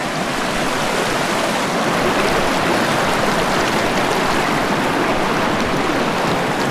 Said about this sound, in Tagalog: tatawid tayo sa ilog na yan